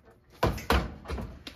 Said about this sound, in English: So you're just going to lift it up a little bit, and then the door just pops off.